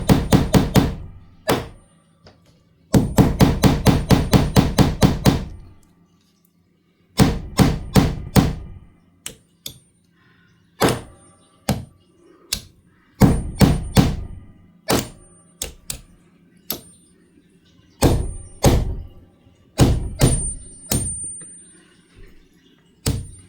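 Knuckle taps on a sewing room wall while hunting for a stud, sharp close knocks in quick bursts and scattered single raps, some hollow and some more solid, separated by quiet gaps.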